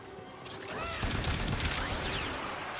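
Rapid gunfire in Warframe, a dense volley of shots and crashes over a busy, loud mix of sounds, with whooshing sweeps layered through it.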